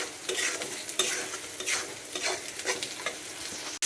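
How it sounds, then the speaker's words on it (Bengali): Meat tossed into a pan of spice masala and sautéed, giving a steady loud sizzle with repeated scraping stirs close by, no speech. "মাংস রান্না করার জন্য সমস্ত মশলা কষিয়ে নিচ্ছি, এবার মাংস দিয়ে দেবো"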